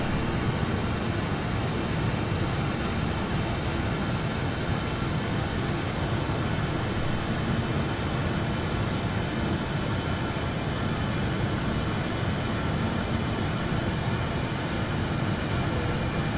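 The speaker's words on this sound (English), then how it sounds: "it's a noisy plane." Engine noise of a BAE146 airliner in Microsoft Flight Simulator 2020, a loud, steady, unbroken jet roar that fills the whole stretch with no speech over it.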